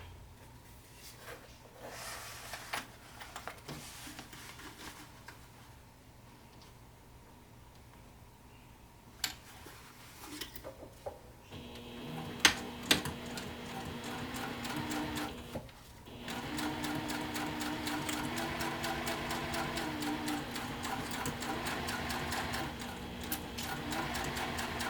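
A sewing machine stitches a bag seam at a quarter-inch seam allowance, a steady mechanical whir that starts faint and grows louder and denser partway through, with brief pauses and light ticking.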